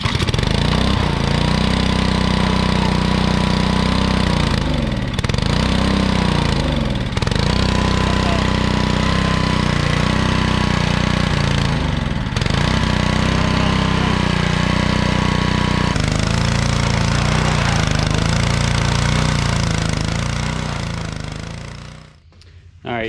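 A repaired Ferris riding mower engine runs loud and close, a rough steady drone with a few brief dips in power before it cuts off near the end.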